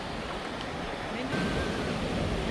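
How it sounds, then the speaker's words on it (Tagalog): Ocean waves at Caves Beach, a steady broadband roar of surf with wind buffeting the microphone, close and continuous throughout. "Ang laki ng alon."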